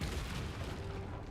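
A Confringo fire spell blasts in Hogwarts Legacy as a short, dense rumbling boom that holds steady for about a second with no talking.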